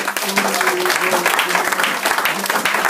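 A church congregation claps and cheers in acclamation, a continuous loud wash of hands with a voice or sustained vocal tones mixed in.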